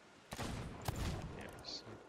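Cannon fire in the pirate game Sea of Thieves, with a couple of heavy, booming blasts within about two seconds, set among ongoing game noise and voices talking.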